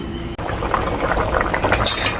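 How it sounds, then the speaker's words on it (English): Chicken pelau bubbling steadily in a pot, a continuous close simmering burble with soft pops, ending in a brief brighter hiss. "And the pilau is bubbling away."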